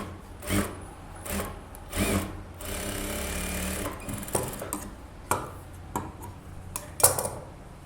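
A sewing machine stitches the lining of a blouse in several short bursts of whirring, broken by pauses filled with clicks and knocks as the fabric is handled, with one longer continuous run near the middle.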